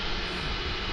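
Jet engines of an MD-82 airliner in Microsoft Flight Simulator spooling down at shutdown, a steady loud broadband roar filling the whole short stretch with no pauses.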